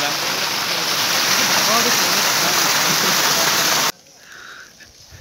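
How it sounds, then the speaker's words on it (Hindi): Water rushing loudly down a stream at a picnic spot in Karachi, a constant close roar that cuts off abruptly near the end, leaving a quiet moment with a brief spoken word. "ये देखें कैसे पानी आ रहा"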